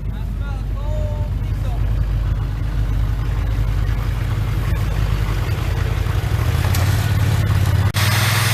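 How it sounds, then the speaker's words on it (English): A cold diesel engine high-idles right after starting on a winter morning, a steady close rumble that rises slightly in pitch near the end, with a voice talking over it. "Alright, there she goes, a high idling."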